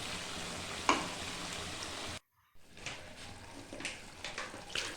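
A paste of garlic, ginger, onion and green chili frying over a low flame, soft continuous sizzling broken by a short silent gap, then resuming with gentle stirring scrapes.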